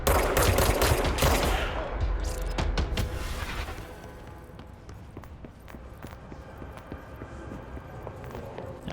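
Rapid gunfire from a weapon in the video game Control, a dense burst of loud shots for the first few seconds, then scattered fainter cracks and clatter as it tails off.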